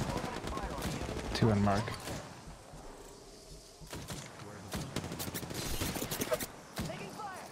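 Gunfire from an Apex Legends match rattles in quick bursts, moderately loud, mixed with a player talking over game sounds and footsteps.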